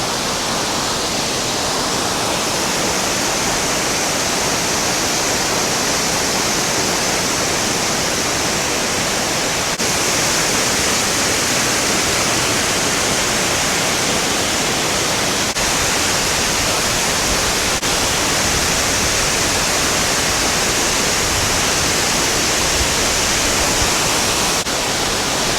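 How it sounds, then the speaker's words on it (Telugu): A hidden waterfall in Sri Lanka pours in a steady, dense roar of rushing water that fills the whole stretch, with no voices. "నేను వాటర్ ఫాల్ దగ్గర ఉన్నాను శ్రీలంకలో."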